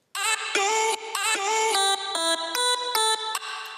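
A dry synth lead with no overdrive plays a short melodic phrase of clipped notes stepping up and down in pitch, clean and fairly loud over a few seconds with no voices.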